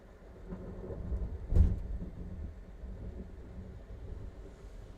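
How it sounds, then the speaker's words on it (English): A single loud thunder crack near Myrtle Beach during a live race broadcast bursts out about midway, then rolls off into a low rumble over steady wind and rain noise. "the stream heard that loud crack of thunder"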